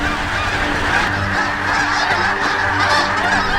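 A dense flock of geese honking continuously and loudly, many calls overlapping in a chaotic chorus as they take flight while being chased by white-headed sea eagles over frozen ground.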